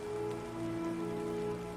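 Steady rain falls at the Tower of London in Sherlock Holmes: Nemesis, a soft continuous hiss of drops on the ground with a faint low tonal hum underneath.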